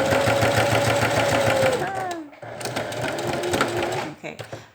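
A sewing machine runs steadily while understitching a shaped facing on fabric, a continuous close mechanical whir that briefly pauses near the middle, then resumes, with a voice speaking over it.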